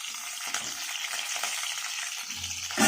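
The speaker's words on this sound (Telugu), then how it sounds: "బాగా ఫ్రై అయిపోయింది" Seafood frying hard in a pan for a South Indian curry, a dense, steady high sizzle running throughout with a few spoon scrapes and a louder clatter near the end.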